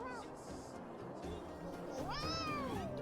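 A cat meows softly near the end with a rising, wavering call, faint and low in level under a murmur of voices talking in the background.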